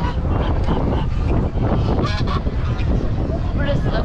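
Geese honking at a busy poultry-selling area of a rural market fair in Gerede, Bolu, repeated loud calls over dense crowd chatter and bustle, with some wind noise.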